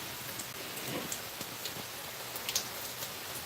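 Cold rain falls steadily outside as a soft, even hiss, with scattered faint drop taps against surfaces and no voices.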